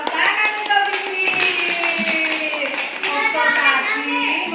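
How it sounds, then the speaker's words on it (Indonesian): Children clap their hands for a classmate in a classroom, a dense, steady patter of many small hands lasting several seconds, with children's voices and chatter mixed in throughout. "tepuk tangan untuk Bibi"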